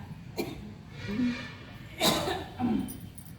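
Several short coughs burst out in a quiet meeting room, sharp isolated bursts spaced irregularly over a few seconds, with faint background murmur.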